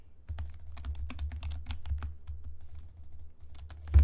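Rapid, uneven clatter of keys on a computer keyboard, steady bursts of typing close up with no talking, while Roblox Murder Mystery 2 is played.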